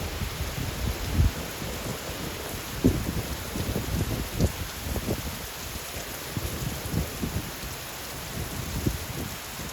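Hurricane Melissa storm in St. Elizabeth, Jamaica: steady heavy rain hiss with repeated low rumbling bursts of thunder and gusts, continuous and fairly loud with no voices.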